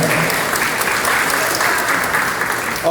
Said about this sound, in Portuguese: Uma salva de palmas para o nosso amigo aqui, né?